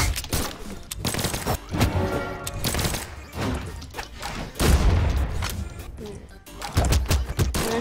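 Gunfire in the fighting video game Brawlhalla, dense bursts of shots, booms and thuds rattling on and off throughout, mixed with faint talking from players.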